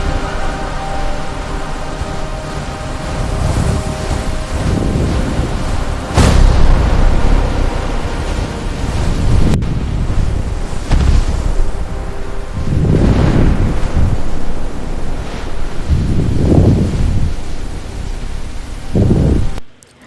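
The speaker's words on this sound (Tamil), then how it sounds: "ரெயினோட சேர்ந்து இடியும் பொழந்து தள்ளுது" Heavy rain pours steadily with thunder rolling through, broadband noise surging in loud swells and a sharp crack around the middle, continuous downpour without any voices.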